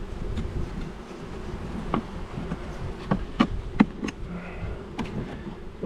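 Honey bees buzz steadily around an opened Langstroth hive during an inspection, a close, continuous drone with occasional louder passes and faint clicks and knocks of hive parts.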